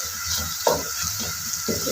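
Garlic ginger paste frying with onions in a pan, a steady sizzle broken by a few stirring scrapes and clinks, close and alone with no talk.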